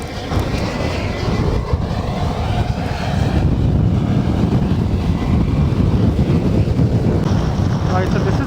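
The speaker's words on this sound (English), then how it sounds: "the wind gust is like really crazy" Strong wind gusts roar and buffet against a microphone during a heavy snowstorm in the Greater NYC area, loud and continuous, with surging rumble throughout.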